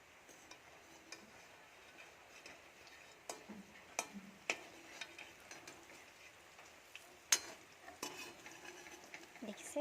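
Pakoras made from raw chickpeas fry quietly in a pan while a utensil turns them, a soft sizzle under scattered sharp clicks and scrapes against the pan.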